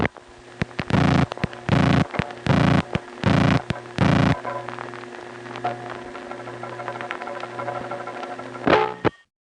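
Old No. 1 crossbar telephone switch in Queens, heard with sped-up dialing: several loud, rapid bursts of tones, then a busy stretch of metallic relay clicks and chatter before abruptly cutting off.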